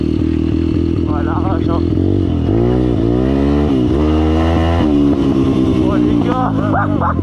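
A 140cc motorcycle engine runs in second gear, a loud continuous drone rising and falling with throttle, close and steady while someone speaks over it.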